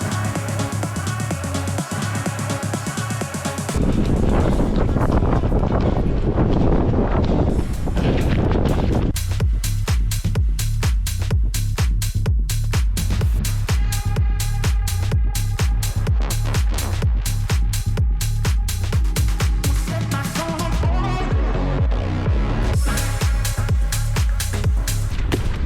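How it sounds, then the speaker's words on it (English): Strong headwind buffets the microphone of a runner during an interval workout, a loud, continuous rumbling roar with gusty pulses and rhythmic thumps, steady throughout with no talking. "Yes, the headwind is really that strong."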